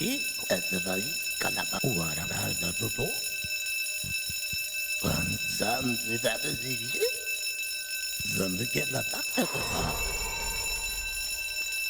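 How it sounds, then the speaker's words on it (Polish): A continuous electronic alarm in the video game Hellmart wails steadily throughout, a loud, high, unchanging tone, while someone talks intermittently over it. "no bo alarm mi tu wyje"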